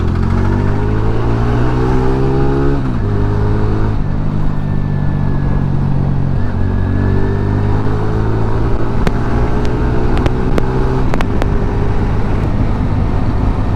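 A TVS motorcycle rides through the city, its engine droning steadily and close, with pitch shifts as it changes gears and a few sharp clicks late on.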